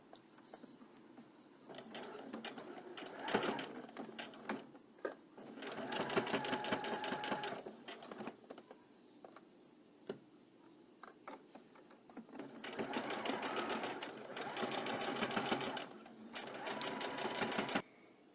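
A sewing machine runs a stitch along the edge of a fabric seam in several bursts of rapid mechanical whirring, separated by short pauses, close and fairly quiet.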